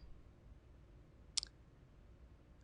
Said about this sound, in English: let's click submit